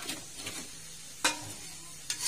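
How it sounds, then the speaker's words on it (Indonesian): Pre-fried chicken pieces are stirred with seasoning in a pan for oyster sauce chicken, low sizzling under a few sharp scraping strokes of a utensil against the pan. "Nah, diaduk sampai merata."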